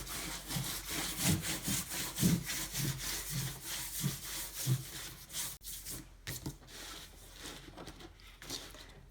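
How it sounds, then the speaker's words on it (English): A bare hand rubbing rubber cement off a resin tray, close rough rubbing and scraping strokes in an uneven rhythm, fading to lighter scuffs toward the end. "just start wiping away the cement"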